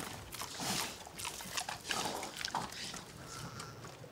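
Pigs feeding on bakery scraps on an alpine farm in the Zillertal, with snuffling grunts and soft squeals coming at close range in irregular bursts.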